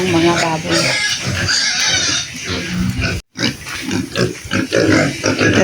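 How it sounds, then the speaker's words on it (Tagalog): Pigs on a farm grunting and squealing loudly at close range while being given a snack after a bath, with people talking over the noise. "Bigyan natin ng merienda nila yung mga baboy."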